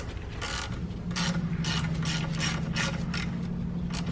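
A ratchet with a 14 mm deep socket clicks in quick uneven bursts while loosening the belt tensioner bolt on a Mitsubishi Mirage, close and distinct over a steady low hum, with no talking.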